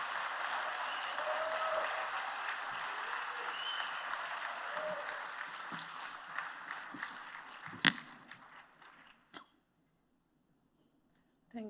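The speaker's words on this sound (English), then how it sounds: "Ladies and gentlemen, a round of applause for Honorable Minister of Environment" Applause in a congress hall in Kigali for the Honorable Minister of Environment, a sustained crowd of clapping that gradually fades over about nine seconds, with a sharp knock near the end before silence.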